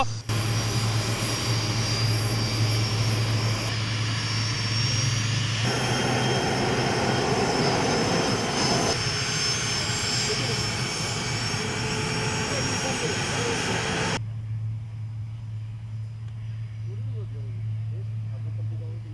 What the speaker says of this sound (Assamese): এয়াৰক্ৰাফ্টৰ ইঞ্জিন ইতিমধ্যে ষ্টাৰ্ট হৈ গৈছে আৰু মোৰ কাণত অনাবৰতে বাজিবলৈ লৈছে সেই ইঞ্জিনৰ যি তীব্ৰ শব্দ